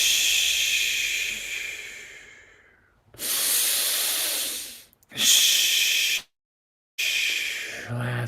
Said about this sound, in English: Three more. Strong breathing.